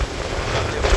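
Strong wind blows across a lake during a fishing outing, a loud, steady low rumble of buffeting microphone noise that swells slightly toward the end.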